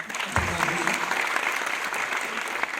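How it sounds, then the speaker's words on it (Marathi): Audience at a Marathi film premiere show in Pune applauds, a dense continuous clapping from a large crowd filling the room, steady and fairly loud throughout. "त्याच्यासाठी प्लीज जोरदार टाळ्या"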